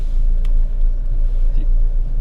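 A car rolls slowly along a road through a Spanish safari park behind a lead vehicle carrying hay, its engine a steady close rumble with road noise throughout.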